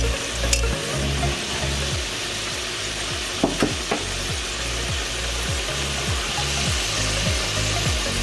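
Potatoes frying in hot oil give a continuous close sizzle, with stirring scrapes and a few sharp clinks, and no talking.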